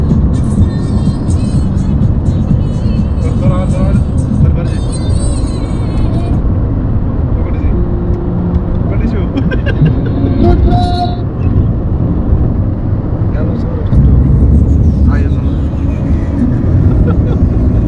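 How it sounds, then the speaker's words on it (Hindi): A car speeds up along a road, its engine and tyre roar loud and steady throughout, with passing traffic noise mixed in. "गाड़ी स्पीड वधंदी थी वञे"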